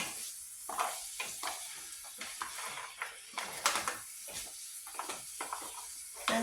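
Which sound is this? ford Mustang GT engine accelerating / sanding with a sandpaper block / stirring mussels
stirring mussels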